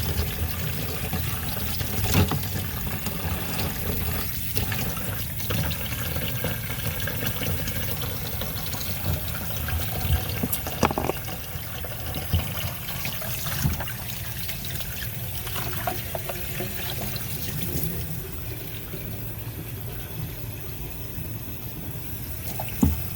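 Water trickling and pouring steadily over a tintype plate during rinsing, a soft continuous splashing flow with small shifts in strength and no talk.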